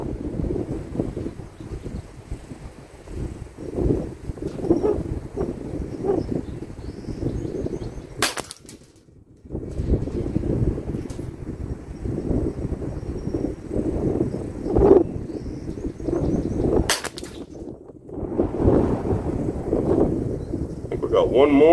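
Gusty wind buffets the microphone at an outdoor rifle range, a rough, fluctuating roar that swells and drops, broken by a couple of sharp gunshots, with people talking faintly beneath it.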